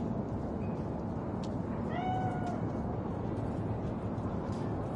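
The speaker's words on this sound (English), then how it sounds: "Chill, just a cat." Cat meowing in the video game Cyberpunk 2077: a single clear, drawn-out meow near the middle, set against a steady, dense ambient background with no talking.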